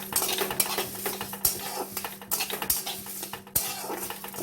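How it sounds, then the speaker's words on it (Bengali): Cashew nuts and whole dried chillies fry in a pan, a light sizzle under repeated scraping and clinking strokes of a stirring utensil, close and irregular. "এবার আমি কাজু বাদাম আর গোটা লঙ্কাটাকে মধ্যে দিয়ে দেব, দিয়ে আবারও একটু ভেজে নেব।"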